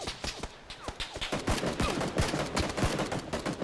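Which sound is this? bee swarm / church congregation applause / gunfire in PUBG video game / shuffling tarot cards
gunfire in PUBG video game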